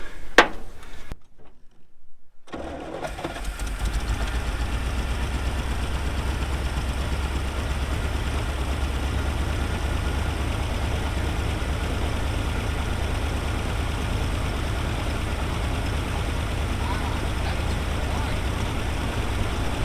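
The heavy diesel engine of a 1975 square-body dump truck cranks and catches, then settles into a loud, steady idle that rumbles on without a break.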